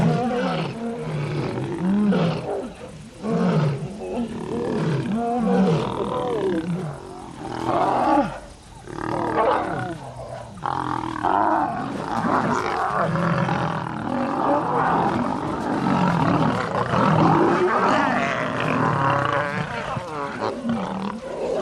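Lions growl and roar in the wild, near and loud, in repeated deep rumbling bursts with grunts. A narrator speaks over parts of it.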